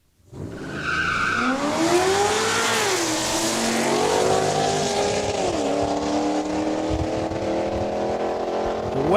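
A supercharged 2008 Corvette and a Dodge Ram truck drag race at Saskatchewan International Raceway, launching with a loud tire squeal and rising engine roar that climbs through gear shifts and holds strong to the end.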